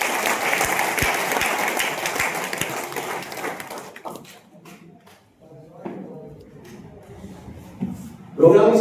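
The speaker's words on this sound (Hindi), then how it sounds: "पहली बार, ये हमारे मेहमान है, एक बार तालियां बजाएं।" Audience clapping for first-time guests at a meeting hall gathering, a dense burst of applause for about four seconds that fades out, followed by quieter room noise, shuffling and a few voices.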